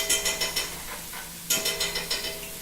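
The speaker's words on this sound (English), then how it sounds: "You go ahead and stir that up, mix that through." A spoon stirring cream of mushroom soup into a stuffed-pepper filling in a bowl, about a dozen rhythmic scraping clinks in two quick bursts, close and clear with no talk.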